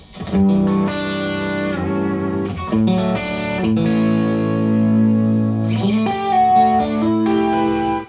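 Electric guitar run through a Yamaha SPX rack effects unit in a home studio, sustained chords and notes with lush modulation and reverb, continuous and fairly loud with no talking.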